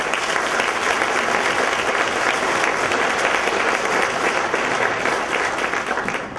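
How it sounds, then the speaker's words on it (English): Loud, sustained applause from a large crowd at an awards event, dense clapping that holds steady for several seconds before easing slightly at the end. "you should give a round of applause for yourself"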